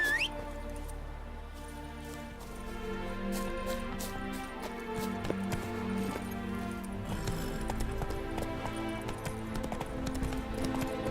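Horse hooves clip-clop steadily in The Witcher 3, a continuous rhythmic trot of a mount set against a dense, busy game soundscape with music, with no talk.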